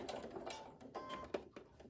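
Sewing machine stitching fabric for a cloth mask, a quiet, rapid mechanical clatter running steadily through the short clip.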